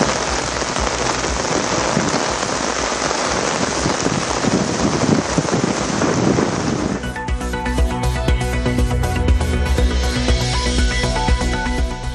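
Rain falls over Tiruvadanai and Karaikudi in Tamil Nadu, easing the heat: a steady, dense hiss of drops on surfaces for about seven seconds, after which music takes over.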